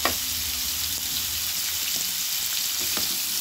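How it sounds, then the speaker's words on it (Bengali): Pumpkin and potato pieces fry in a pan in a steady, close, dense sizzle, with a few faint stirring knocks and no voices. "তো এখানে কুমড়ো আর আলুটাকে একটু কিছুক্ষণ একটু ভালো করে ভেজে নেব।"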